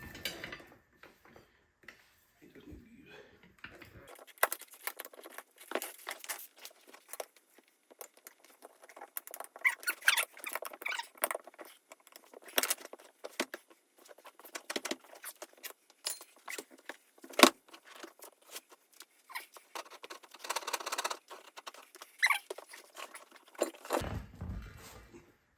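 Steel tire irons prying a tire onto the wheel of a 57mm cannon, a long run of close, irregular metallic clinks, scrapes and taps with brief pauses between.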